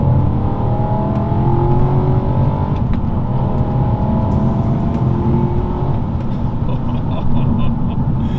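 A BMW E92 M3 engine with a stage 2 primary decat revving up under acceleration in third gear, a steady loud roar with the pitch gradually climbing, heard from inside the vehicle.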